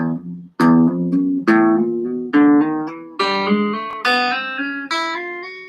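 Guitar notes plucked one at a time in a triplet pattern, with a single pick stroke followed by hammer-ons from the index and middle fingers, in evenly spaced groups that ring clearly and close with no talking.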